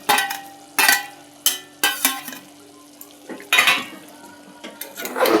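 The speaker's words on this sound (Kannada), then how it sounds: "ಚೆನ್ನಾಗಿ ಮಿಕ್ಸ್ ಮಾಡ್ತೀವಿ." A spoon clanks and scrapes against a pot as chicken curry with ground masala is mixed, giving sharp metallic knocks at irregular intervals over a faint background sizzle, close by.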